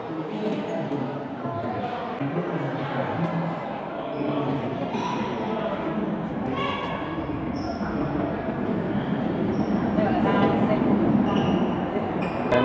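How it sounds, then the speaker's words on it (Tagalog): A mountain train arrives at a station on the way to Fansipan summit in Sapa, Vietnam, rumbling and clacking nearby with brief high wheel squeals under the excited talk of people waiting. "The train is right here,"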